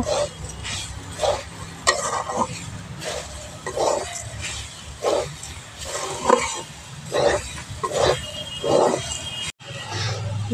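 Spoon stirring sugar in a cooking pan, a series of regular scraping strokes with faint sizzling underneath, fairly close and without speech.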